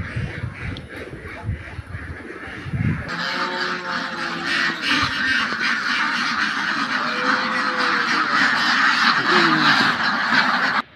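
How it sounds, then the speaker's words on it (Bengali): Small-breed ducklings at a poultry and agro farm give a steady chorus of repeated peeping and quacking calls for most of the stretch, close by and fairly loud, over a busy outdoor background with no talk. "ছোট প্রজাতির হাঁসের বাচ্চাগুলা কি সুন্দর ছোট ছোট।"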